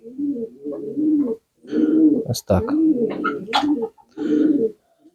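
Pigeons coo in repeated throaty, warbling bursts up close while being fed wheat in a village yard, with wing flutters and brief clattering between calls and someone speaking briefly.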